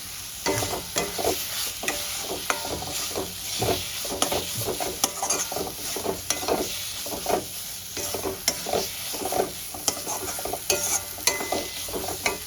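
Fried potatoes are stir-fried with spices in a pan, a close, continuous sizzle broken by repeated scraping and stirring strokes of a utensil against the metal.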